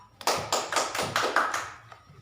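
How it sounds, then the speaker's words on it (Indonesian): Students in a classroom clap their hands together in a short burst of a few sharp, closely spaced claps that fade out quickly, loud and near, with no talking. "beri tepuk tangan untuk kita semua"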